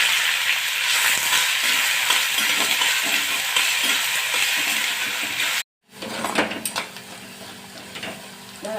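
Onions and cumin with mustard seeds sizzle steadily in a hot pan for an egg masala, the frying loud and close with light stirring scrapes, broken by a brief silence before renewed, busier stirring and clatter.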